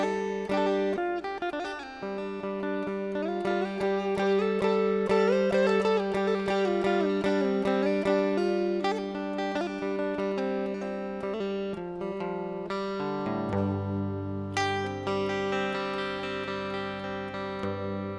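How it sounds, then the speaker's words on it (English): Acoustic guitar runs through a Celtic pentatonic scale in G against a ringing open G drone, picked notes moving up and down in a flowing melodic line, close and clear, with a lower held tone entering late. "Then let's talk about that Celtic pentatonic scale."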